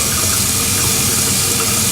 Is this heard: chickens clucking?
no